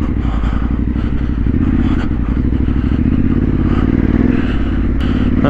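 Trail motorcycle riding through woodland on a January green-lane ride, a loud, close, steady engine drone with clattering and scraping from the rough, slippery track, and no talk.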